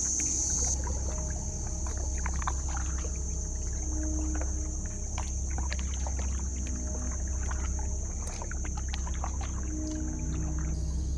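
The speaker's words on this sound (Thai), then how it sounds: "เราก็จะมาพายไปยังจุดที่หนึ่งกัน" Kayak paddling on calm water toward a cave entrance: soft, irregular paddle dips and water sloshes over a steady low hum, with a constant high-pitched whine running throughout and no talking.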